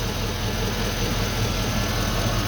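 1976 Chevrolet K10 with a swapped 4.8 liter LS engine idling with only one O2 sensor fitted, a steady close rumbling idle with even low pulsing throughout.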